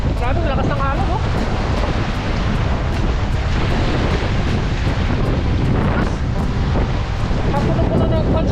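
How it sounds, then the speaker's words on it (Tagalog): Loud, constant roar of heavy surf mixed with strong wind buffeting the microphone. Faint voices are buried in the noise. "Grabe, lakas ng alon, oh."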